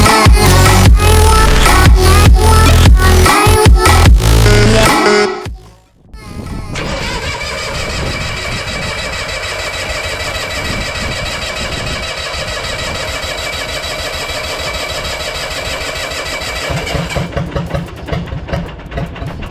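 A two-cylinder Cummins diesel engine, dormant for over twenty years, cranks loudly for several seconds, goes briefly quiet, then fires and settles into a steady, rough idle that picks up slightly near the end.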